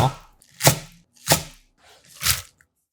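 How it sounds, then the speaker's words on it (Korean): A knife chops chives on a cutting board in four distinct, crisp strikes spaced roughly evenly over a few seconds, each a sharp close thunk against near silence. "향긋함 더하는 부추 반줌은 1cm 길이로 쫑쫑 잘라주세요"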